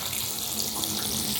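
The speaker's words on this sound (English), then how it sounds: "Now I'm just going to try the cold water tap now." Cold water runs steadily from a bathroom tap in an Irish cottage, a continuous, fairly loud hiss and splash with no talking.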